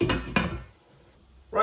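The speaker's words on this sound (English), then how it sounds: "put the lid back on that and let it cook" A lid clatters twice onto a pot of simmering chicken korma, two quick, close knocks, followed by a short quiet stretch and another light bump.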